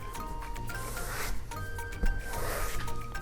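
A basketball drags and rubs across a painted interior wall coated in scuff-resistant paint, giving a steady close-up scraping rub with a couple of brief bumps.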